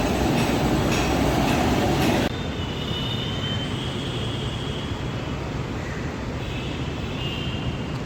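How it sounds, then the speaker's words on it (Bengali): A Kolkata metro train rolls toward the platform with a loud, continuous rumble of wheels on rail. A brief harsher roar at the start drops to a steady run with faint squeals above it. "ওই ট্রেনটাই সামনে থেকে লাইন চেঞ্জ করে এই প্ল্যাটফর্মের দিকে আসছে"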